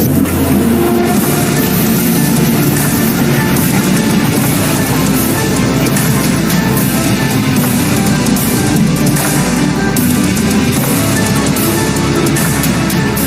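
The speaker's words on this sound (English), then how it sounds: "It's a petrol vehicle. It doesn't have low range. It's a two-wheel drive vehicle." A petrol Tata Punch, a two-wheel-drive compact SUV without low range, grinding along a rough boulder road, a loud continuous engine drone with rattling and bumping over the stones, close and steady throughout.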